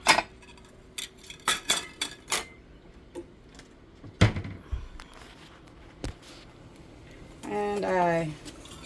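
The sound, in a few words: taking little plates from above the stove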